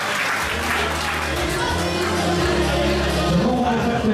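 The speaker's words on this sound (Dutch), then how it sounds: "Dames en heren, mag ik een groot applaus voor deze week." Loud, steady applause from a crowd at a Fight Dome 6 kickboxing event, greeting the fighters without a break and under a low, droning hall tone.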